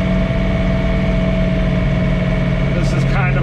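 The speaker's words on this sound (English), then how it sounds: "Now you hear the tractor loading up" A John Deere 3046R compact tractor runs hard while snowblowing, its engine a loud, steady, close drone with a constant low hum and no clear pause throughout.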